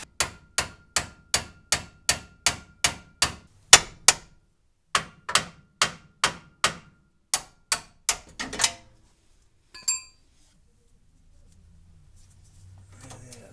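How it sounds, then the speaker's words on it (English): A hammer strikes a nut on a worn car front-end control arm, a steady run of sharp metallic blows that pauses briefly, resumes, then thins to a last hit and quiet rustling. "now when we try to beat that loose, it'll pop down somewhat"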